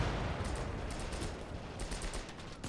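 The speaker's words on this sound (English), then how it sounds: "Another strafing run." Aircraft strafing run in the Gates of Hell video game: a faint, distant spatter of rapid gunfire bursts over a rumbling battlefield, with no voices.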